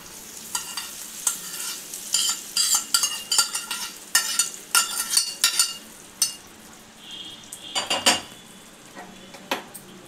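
A spoon stirs and scrapes frying ingredients for ginger chutney in a metal pan, with a series of close clanks and clinks over a soft sizzle, and a louder clatter toward the end.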